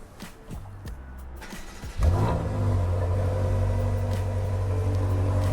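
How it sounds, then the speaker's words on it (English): After a few quiet clicks, a 2018 BMW M5 engine cranks and fires up with a loud burst, then settles into a deep, rumbling exhaust idle. "I'll start it up right now so you can hear the exhaust."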